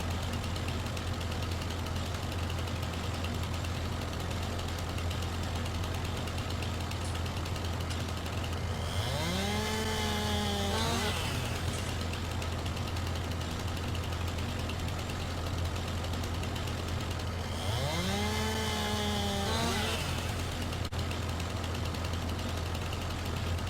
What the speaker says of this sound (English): What I want to do now is just get my chainsaw out.